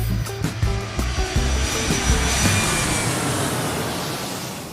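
Airplane taking off, a loud, continuous engine roar that builds and then sustains as a steady broadband rush, heard alone with no talk.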